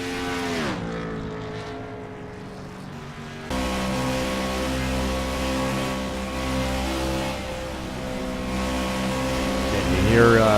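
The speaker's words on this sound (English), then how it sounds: "you hear the 9 car, Gary Cross, pedal that gas as he comes through the turn here as these tires get worn" A race car engine drones loudly at Darlington as the No. 9 car brakes and gets back on the gas through a turn on worn tires, with pitch dipping and then climbing under steady commentary.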